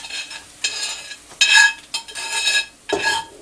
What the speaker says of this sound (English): Now the onions are tender, so I'm going to add those